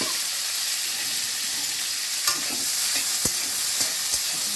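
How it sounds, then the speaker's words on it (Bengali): Vegetables lightly frying in a wok for Indian-style Chinese prawn chowmein, with a steady sizzle and a few sharp scrapes and knocks of stirring near the end, no voices. "আমি একটু হালকা করে ভেজে নেব"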